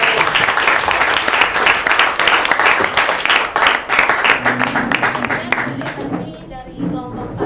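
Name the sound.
applause for the group presentation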